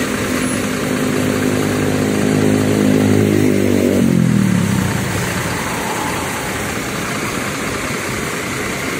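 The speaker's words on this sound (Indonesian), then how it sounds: "Suara mesinnya halus ya." Mercedes-Benz OH 1526 bus engine running loud and close, revving with a tone that sweeps downward before settling into a smooth, steady idle.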